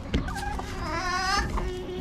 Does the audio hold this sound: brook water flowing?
no